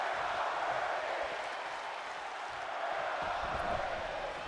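Steady arena crowd noise from a WWE 2K25 wrestling match, a dense continuous roar of shouting fans with a muffled chant, loud and unbroken throughout.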